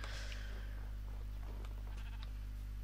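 A sheep in the video game Minecraft bleats in a short, faint cry at the start, set over a loud constant low hum, with a few soft clicks afterward.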